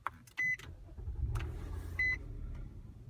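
A car engine cranks and settles into a low, steady idle inside the vehicle, with two short electronic beeps sounding about a second and a half apart over the rumble.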